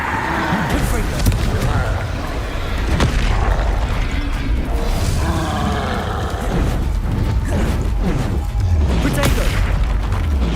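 Spell explosions in the video game Hogwarts Legacy: repeated loud booming blasts and bursts in a dense, noisy battle with continuous rumble throughout.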